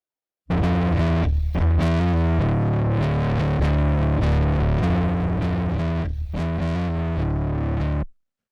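A bass line pushed through heavy parallel distortion with the send fully wet plays loud and gritty, sustained notes buzzing with a thick saturated tone for about eight seconds before cutting off cleanly.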